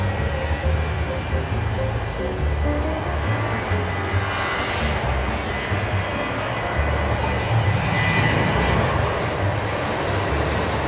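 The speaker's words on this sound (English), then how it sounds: "This is Flight 932. It's going to Orlando. It's a 737-800." Boeing 737-800 airliner on Flight 932 to Orlando, heard at Dallas Love Field as a steady, broad jet engine roar that holds throughout without fading, with faint speech mixed in underneath.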